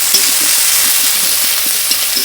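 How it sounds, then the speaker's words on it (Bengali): Onions frying in a pan for a Bengali fish bhorta, a steady dense sizzle with small crackles running throughout, close and fairly loud with no talking. "প্রথমে আমরা পেঁয়াজগুলি ভালো করে ভেজে নেব, একটু ব্রাউন কালার করে নেব।"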